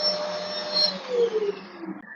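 A vacuum cleaner with hose and wand attached runs briefly, a steady whirring drone that fades out as it winds down.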